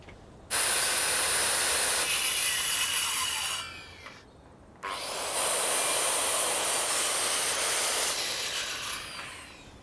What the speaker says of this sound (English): So I'm now ready to cut my post off.